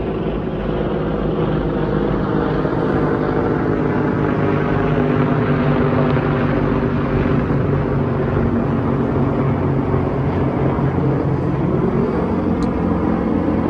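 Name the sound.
aircraft flying overhead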